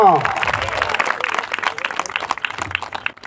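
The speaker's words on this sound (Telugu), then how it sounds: "గట్టిగా చప్పట్లు కొడదాం." An audience claps loudly at a Telugu folk song gathering, with fast, uneven hand claps fading over a few seconds while someone speaks over them.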